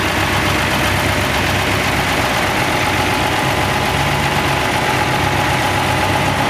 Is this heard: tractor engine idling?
yes